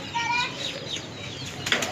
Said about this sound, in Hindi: माशाल्लाह से अच्छी परवाज़ दे रहे हैं कबूतर